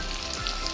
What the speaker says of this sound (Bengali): পাতাটা ভালো করে ভেজে নিই।